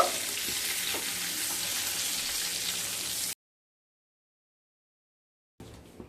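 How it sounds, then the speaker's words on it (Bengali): Pointed gourd and potato pieces fry in oil with a dense, steady sizzle for about three seconds. The sound then cuts to silence and returns faintly near the end. "পটল আর আলু খুব ভালোভাবে ভাজা হয়ে গেছে।"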